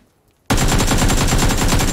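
Rapid automatic gunfire in PUBG on the Erangel map, a loud sustained burst of evenly spaced shots that begins abruptly after a short near-silent pause and runs to the end.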